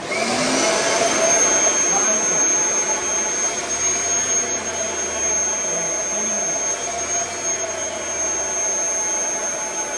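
A Kirby heavy duty vacuum cleaner with a massage attachment runs in a loud, continuous high whine with a steady motor drone, and people talk faintly underneath.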